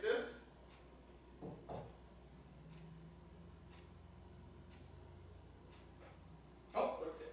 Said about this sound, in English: I heard the knocks.